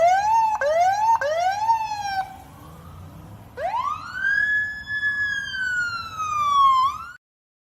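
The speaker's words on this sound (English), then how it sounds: "we just heard the sirens" Sirens wailing on a Culver City street at night, two rapid yelp bursts followed by a long rising and falling wail over low engine rumble, fairly close and loud with no talking.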